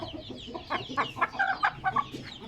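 A small Aseel hen clucks in a short series of close, clear calls that grow busier and more rapid toward the middle, heard alone with no talking.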